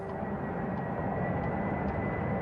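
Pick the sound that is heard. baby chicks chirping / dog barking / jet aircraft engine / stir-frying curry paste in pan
jet aircraft engine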